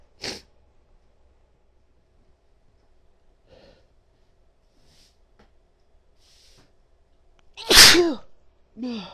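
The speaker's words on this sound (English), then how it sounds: "So sneezing." A woman sneezes, a small breathy burst near the start and then one loud, sharp sneeze close to the end, followed by a brief gasp or snort, with near silence in between.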